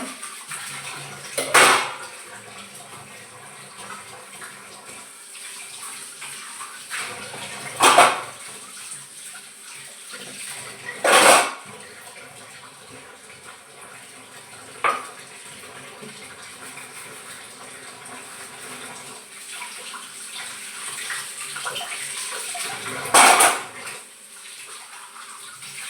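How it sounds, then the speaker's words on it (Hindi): Dishes, pots and cutlery being washed in a home kitchen sink under running water, with a steady tap flow broken by several sharp clatters of utensils and pans, close and alone without talk. "उतने बर्तन मैं हाल के हाल मांजती जाती हूँ"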